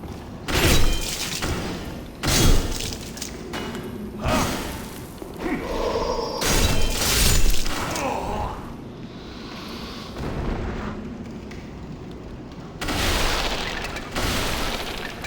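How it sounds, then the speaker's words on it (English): Bombs exploding in a video game: repeated booming blasts and heavy thuds at irregular intervals, loud and close, with rumbling debris between hits. "Is that guy just throwing bombs?"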